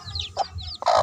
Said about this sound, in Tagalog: Magpapakain po tayo sa ating manok na kakapisa lang.